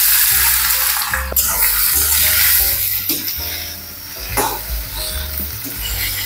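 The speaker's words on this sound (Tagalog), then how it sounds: "Isasangag lang natin ang ating hipon." Shrimp sautéing in a little oil in a hot pan, a loud continuous sizzle with stirring scrapes and occasional clinks of a utensil against the pan, no talking.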